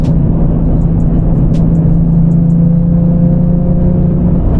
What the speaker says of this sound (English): You can just enjoy the exhaust note.